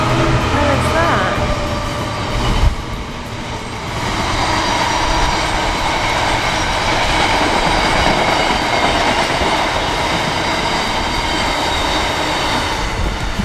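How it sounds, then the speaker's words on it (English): A train rolls along a railway track beside a parked campervan in northern England in winter, a steady, loud rumble with clatter lasting throughout, close by. "I didn't realise we were parked right in front of a train track."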